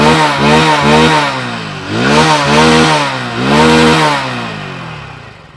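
A Hero Splendor Plus motorcycle's exhaust revs loudly three times, each rise in pitch climbing and falling back, with the idle settling between bursts before fading.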